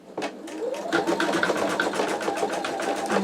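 An embroidery machine stitching a design in a magnetic hoop, with a rapid, steady needle clatter running close and continuous after a brief start-up.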